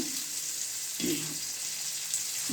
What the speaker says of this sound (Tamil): போட்டு கொஞ்சம் லைட்டாக வதக்கணும்.